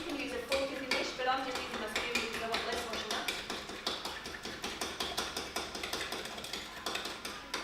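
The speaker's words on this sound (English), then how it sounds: "So soften those eggs. You can use a fork if you wish, but I'm just using my spoon" A spoon taps and scrapes rhythmically against a bowl while mixing softened eggs, a quick, steady series of light clinks heard close and fairly quiet.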